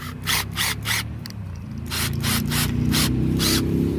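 A drill motor whirs steadily as a sanding pad rasps against a car headlight in repeated strokes, after a few separate rubbing scrapes.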